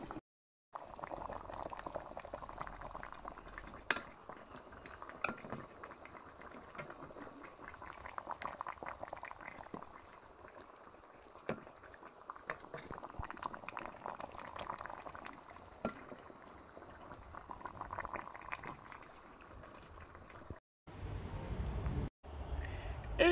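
Fresh fish soup simmering in a covered pot, a soft continuous bubbling and gurgling that stays quiet and steady for about twenty seconds, ending with a brief pause and a few clinks.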